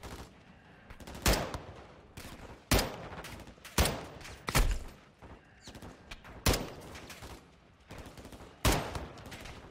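Gunfire in the Call of Duty Modern Warfare 2 campaign: about eight loud, sharp shots and short bursts spaced irregularly over a steady background hum, with no talk.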